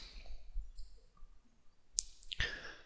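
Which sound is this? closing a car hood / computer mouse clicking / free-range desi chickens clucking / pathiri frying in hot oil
computer mouse clicking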